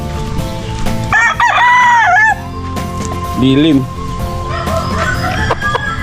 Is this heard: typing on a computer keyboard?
no